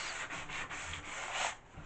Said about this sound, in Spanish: esta es una madera muy blanda, entonces bueno, se lija muy fácilmente